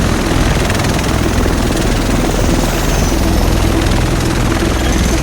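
Helicopter in the video game The Division, a loud continuous rotor and engine roar that fills the scene steadily from start to finish with no talk.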